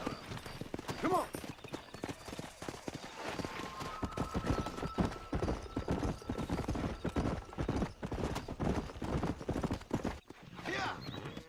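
Horse hooves clip-clop rhythmically at a gallop while riding in the Red Dead Redemption video game, with a whinny near the start and voices talking over the hoofbeats.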